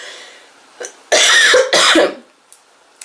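A sick person clears their throat and then coughs in two loud, harsh bursts close to the microphone, followed by a couple of small catches of breath and no talking.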